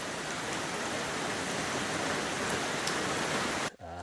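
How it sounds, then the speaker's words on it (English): Heavy rain drums steadily and loudly on a camping tent along a hiking trail, a dense unbroken patter that cuts off abruptly near the end. "I put up my tent not knowing if the rain was going to come,"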